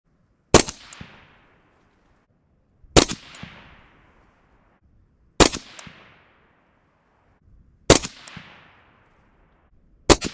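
An AR rifle fires at a 200-yard range, each sharp, loud report spaced a couple of seconds apart with a short ringing decay, five shots in all.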